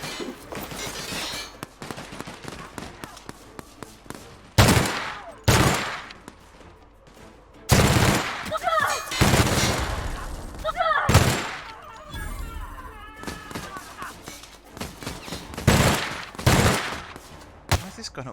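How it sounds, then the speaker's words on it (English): Gunfire in The Outer Worlds video game, with loud close shots and automatic bursts coming in irregular clusters and pauses between them, over background game sounds. "Who's shooting over here?"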